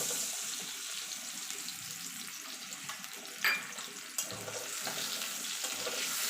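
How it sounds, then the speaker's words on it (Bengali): Tomato with turmeric and Kashmiri chili paste sizzling in a pan, frying steadily and softly at close range, with a couple of brief clinks from stirring partway through. "এবার এটাকে একটুখানি নাড়াচাড়া করে নেব।"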